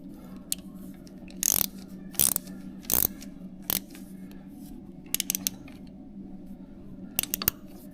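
Bolt being tightened on the starter of a BMW R1100GS motorcycle, heard as a few short ratcheting bursts near 1.5, 2.2, 3.0 and 3.7 seconds, then quick clicks later on, over a steady low hum with no talking.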